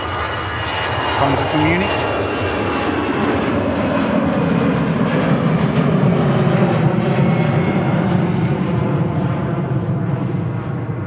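An airliner departs Manchester Airport, its jet roar loud, close and sustained across the whole stretch, while a voice speaks briefly over it.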